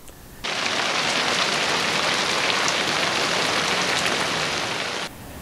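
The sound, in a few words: rain downpour falling on a car cover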